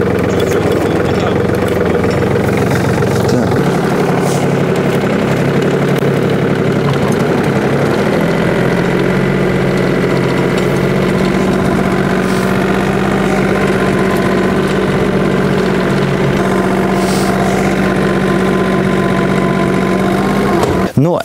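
A mini tractor's engine runs steadily and loud close by, a continuous idling drone with a steady low hum that shifts slightly in pitch partway through, with no clear talking over it.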